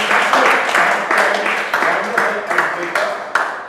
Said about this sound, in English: I request everyone to give him a big round of applause